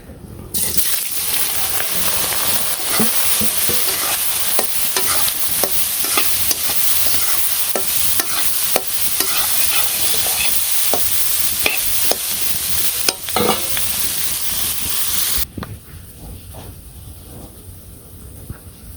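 Oil sizzles and crackles steadily in a hot pan with frequent stirring clicks, loud and close, then drops to a quieter hiss in the final seconds.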